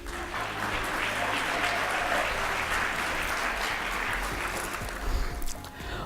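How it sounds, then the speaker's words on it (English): Steady, full applause from a large audience at an awards gala, a continuous roar of many hands clapping that holds level the whole time, with a few louder bursts near the end. "You can clap right there."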